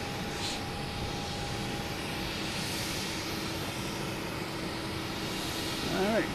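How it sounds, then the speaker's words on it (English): A JetBlue Airbus A320 arriving from Denver at Boston Logan produces a steady, moderately loud engine rush throughout, with a brief voice near the end. "got a JetBlue coming in from Denver. A320."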